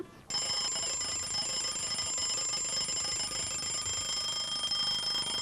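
An alarm clock set for three o'clock starts ringing sharply after a brief quiet moment, then carries on as a loud, continuous electronic tone that fills the room without letup.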